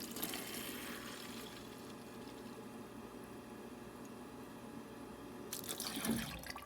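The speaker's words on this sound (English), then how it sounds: "This time you're going to put your water bottle right where that sensor is, and it's going to pour water in there for you." Sensor-activated school water fountain pouring a steady stream of water into a water bottle, a continuous faint rushing that swells slightly near the end as the bottle fills.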